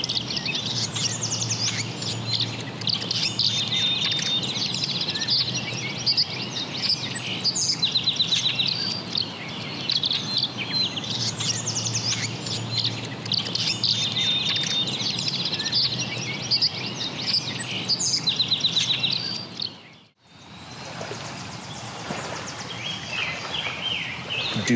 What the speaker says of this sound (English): These tree swallows are dive bombing a red-winged blackbird that seems to have gotten a little too close to their nest